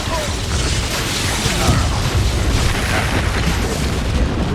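Spell explosions go off in Hogwarts Legacy as a dense, continuous wash of loud booms, bursts and rumbling impacts close up, with no pauses between them.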